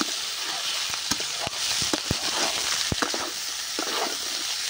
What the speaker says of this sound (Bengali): যাতে পাস্তাগুলো সবজির সাথে খুব ভালোভাবে আবারও ভাজা হয়ে যায়